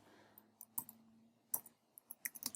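A computer mouse clicks several times, sharp and close, in irregular single and double clicks, with faint background hum in between.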